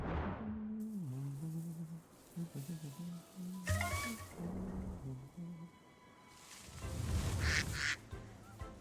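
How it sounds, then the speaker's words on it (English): Duck quacks from a Pokémon video game come through in short bursts over busy game music, with a person talking and reacting nearby. "Quack quack."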